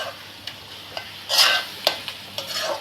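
Spice paste for korma sautés with a gentle sizzle while a spoon scrapes and taps against the pan in irregular strokes, one longer scrape in the middle.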